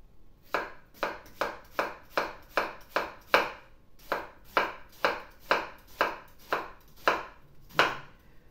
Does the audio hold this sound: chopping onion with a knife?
yes